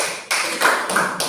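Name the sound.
applause from a classroom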